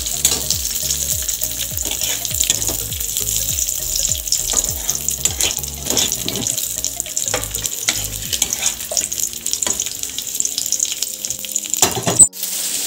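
Cashews and raisins fry in a pan with a continuous bright sizzle, broken by a regular tapping and scraping of stirring, and a sharp clatter near the end.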